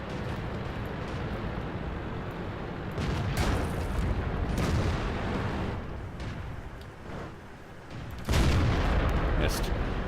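Tank cannon fire in the video game World of Tanks, heavy booming shots and rumbling blasts over a constant loud battle background, with a couple of strong bursts spaced several seconds apart.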